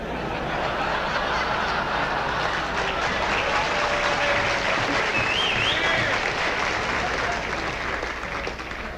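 Studio audience applauds loudly and steadily for several seconds at a 1973 Frank Sinatra radio tribute, with some laughter mixed in.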